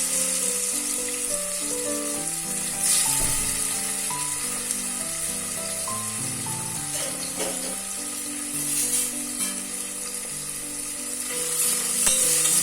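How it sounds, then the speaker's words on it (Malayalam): Marinated prawns frying in hot oil inside a pressure cooker for prawn biryani, a steady close sizzle with occasional stirring knocks, while background music plays throughout. "ഈ ഓയിൽ ചൂടായി വരുമ്പോൾ ഇതിലേക്ക് ഇട്ടുകൊണ്ട് ഒന്ന് പൊരിച്ചെടുക്കാം"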